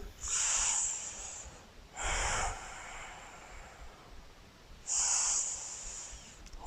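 Slow, steady breaths pass in and out through the nose during a yoga stretch for the splits, three long airy exhales close to the microphone with quiet pauses between them.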